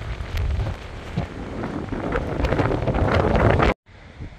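Loud, rough wind buffeting the microphone continuously near a cliff edge in Corsica, then cutting off abruptly near the end.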